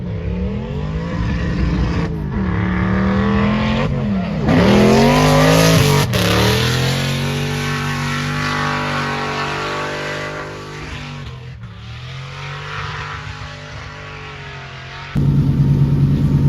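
Race cars at a Summer Bash round in Pärnu, one with a supercharged engine and another turbocharged, rev and accelerate loudly nearby, engine pitch rising and falling through gear changes with a brief tire squeal, no talk over it.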